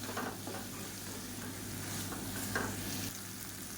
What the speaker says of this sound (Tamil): இப்போ நல்லா இதில் வந்து பரட்டி விட்டுக்கலாம்